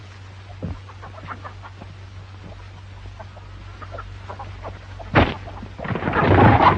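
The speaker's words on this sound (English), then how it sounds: "Are you the boy that's been stealing Aunt Hetty's chickens?" Chickens cluck in a 1934 Western, a scatter of short clucks and calls at moderate distance over a low steady hum, followed by a louder burst and a rising noisy rush near the end.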